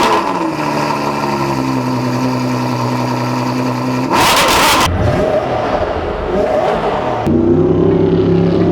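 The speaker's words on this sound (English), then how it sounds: "This is a cold startup on a 2017 Koenigsegg Agera" A 2017 Koenigsegg Agera RS1 fires up cold, starting with a steady droning idle, then bursting into a sharp loud roar midway, followed by rough fluctuating revs and a renewed higher idle, heard close with no speech.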